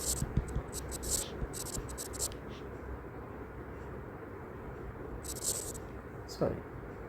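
Pen scratching on paper in short bursts of writing, close and fairly faint, while someone talks steadily over it.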